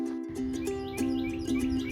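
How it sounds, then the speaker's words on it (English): Mockingbirds and red-winged blackbirds sing near a lake and creek, a steady sustained trill running throughout with brighter chirps and whistled notes repeating over it, close and clear with no talking. "We also enjoyed the sounds of the mockingbirds and the red-ringed blackbirds."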